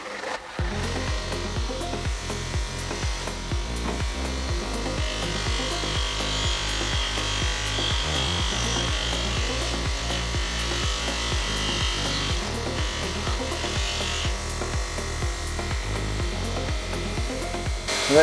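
A large calico soft buffing wheel on a bench machine polishing a motorcycle wheel in a workshop gives a steady, loud, continuous whirring drone with rhythmic pulsing and scraping friction throughout, no voices.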